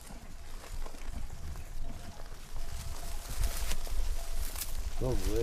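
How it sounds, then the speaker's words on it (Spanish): A flock of sheep heads downhill over open countryside, their hooves clopping in a steady scatter across the ground amid broad outdoor noise, with a brief bird call near the end. "Se van a ir las ovejas para abajo."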